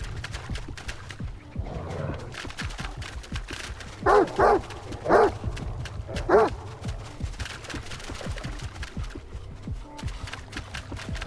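Mutant dogs in STALKER 2: Heart of Chornobyl growl low and steadily, with a few sharp, loud barks bursting out in the middle over a rough outdoor background.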